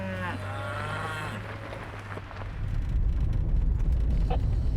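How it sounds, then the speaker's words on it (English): Cattle moo on and beside a road in Colorado, one long, loud, close low call followed by rising engine and road rumble from a passing vehicle. "Cows on both sides and in the road."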